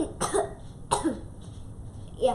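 Two or three short, close coughs with a throaty rasp, spaced about a second apart, followed by a brief throat-clearing sound at the end, no talking.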